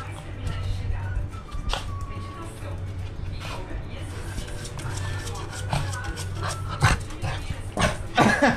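A small dog barks in short yips and whimpers intermittently while someone speaks over it, close by indoors.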